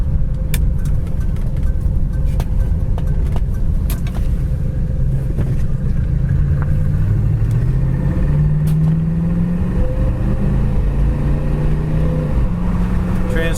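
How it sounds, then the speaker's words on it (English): Recorded from inside a 1971 Ford Torino GT hardtop on the highway: a loud, continuous engine and road roar, with engine pitch climbing and stepping as the automatic transmission shifts through its gears. "Transmission shifts good, speedometer works."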